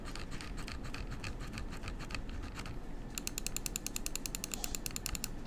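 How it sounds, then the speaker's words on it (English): Scroll wheel of a G-Wolves Skoll Mini computer mouse spun in bursts, giving close, rapid ratcheting clicks with a crisp, tactile notch pattern, quiet and alone. "Now let's do the scroll wheel."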